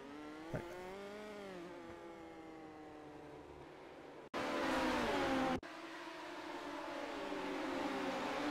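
Midget speedcars race on a dirt track at night, their high-pitched engines droning and shifting in pitch as they pass, and one loud car sweeps close by before the steady distant roar returns. No one speaks.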